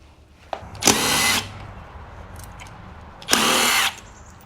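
A power drill or driver whirs in two short bursts of about half a second each while removing an engine cover on a KTM 300 two-stroke during a top-end rebuild, with small clicks and handling noises between.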